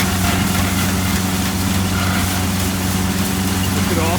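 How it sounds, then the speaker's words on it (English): John Deere 950 utility tractor engine running steadily at a farm show, a loud, constant low throbbing idle with a harmonic drone lasting throughout, no pauses. "The John Deere 950 little utility tractor."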